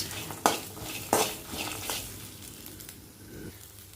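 Ingredients for a bottle gourd kuzhambu dry-roasting in a pan, a few sharp scrapes and clinks of a spatula against the metal over a soft sizzle, fading toward the end, close with no talk.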